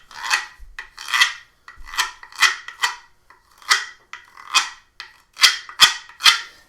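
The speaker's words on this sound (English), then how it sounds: "The güiro that we saw up there, that's actually a scraping instrument." A güiro, a percussion instrument scraped with a stick, played in a steady rhythm of about a dozen short rasping strokes with brief pauses between them, crisp and close with no other sounds.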